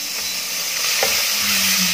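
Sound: onion added to hot oil, sizzling

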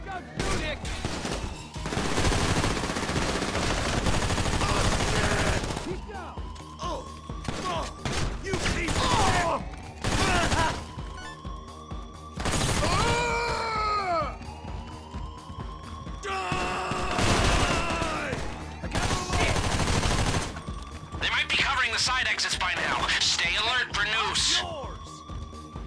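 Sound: gunfire in video game Grand Theft Auto V

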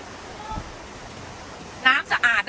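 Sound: waterfall

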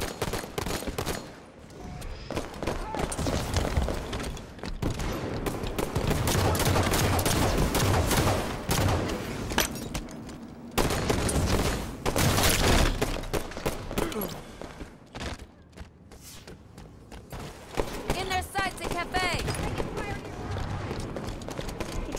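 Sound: gunfire in Halo 5 video game

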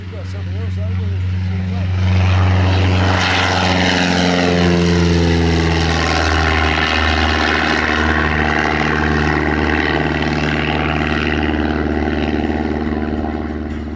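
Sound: propeller airplane flying overhead

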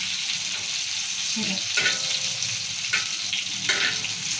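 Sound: stuffed eggplant frying in masala in a pan

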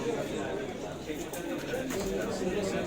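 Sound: pigeons cooing at a pigeon auction

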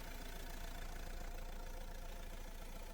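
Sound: diesel car engine idling

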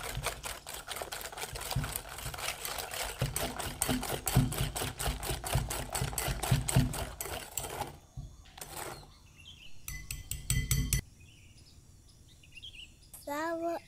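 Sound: mixing cookie dough in a bowl

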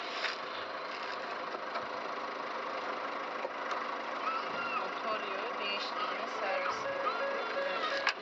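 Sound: manual car engine idling but not moving

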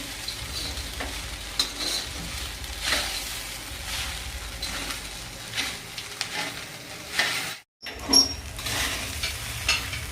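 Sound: stirring sabudana khichdi in a pan

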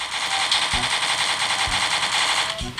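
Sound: gunfire from the video game Dude Theft Wars

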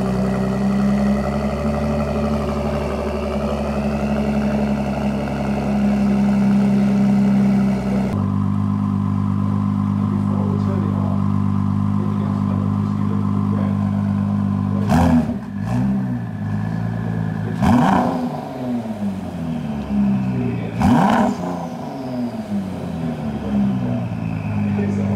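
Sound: 2019 Ford GT engine starting, idling and revving

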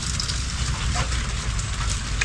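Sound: rain

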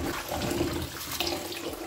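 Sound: tap water rinsing yam

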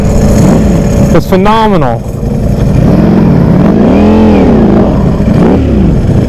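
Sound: Ducati motorcycle engine revving while riding

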